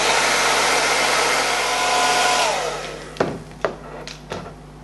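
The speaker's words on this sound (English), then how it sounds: "then I'll dry it down with cool air on my blow dryer" A hair dryer blows cool air steadily and loudly for about three seconds over wig adhesive, then switches off, followed by a few sharp knocks.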